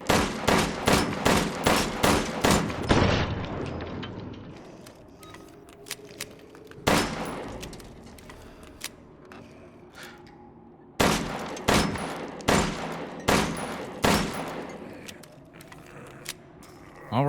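Fully upgraded LEMI pistol from Resident Evil Village firing in rapid bursts of sharp, loud shots, with several quick volleys separated by pauses, a single shot in the middle, and faint mechanical clicks and ambient noise between them.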